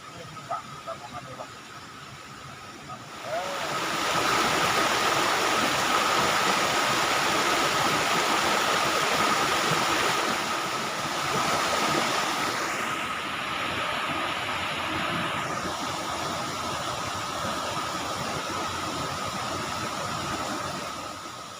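Continuous rushing of a flowing forest stream in the rainy season, loud and steady, beginning after a short quieter stretch with faint sounds.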